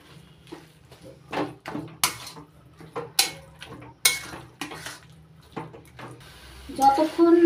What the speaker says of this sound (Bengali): স্বাদ মতো লবণ আর হলুদ গুঁড়ো দিয়ে থোর বাটার সঙ্গে ভালো করে মিশিয়ে নিচ্ছি